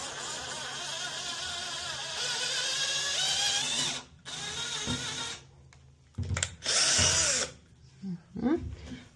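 A power drill bores a hole through a tiled shower wall in loud, whining bursts that rise and stop abruptly, separated by short pauses, with a person talking in between.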